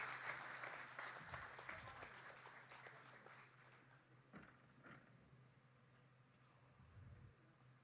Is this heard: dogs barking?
no